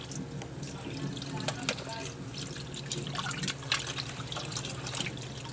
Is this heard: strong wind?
no